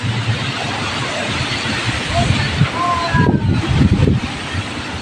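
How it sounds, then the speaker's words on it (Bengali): Strong gusting wind ahead of an approaching cyclone roars steadily into the microphone with low rumbling buffeting, while trees are nearby and a person talks briefly. "এত হাওয়া না"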